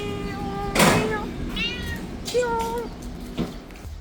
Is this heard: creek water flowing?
no